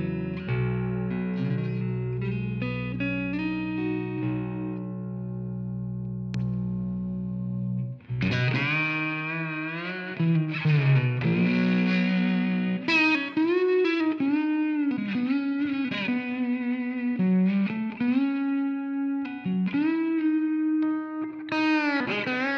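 A baritone slide guitar played through a V1 Duchess compression pedal, with long sustained notes and smooth gliding pitch bends, loud and close with no talking.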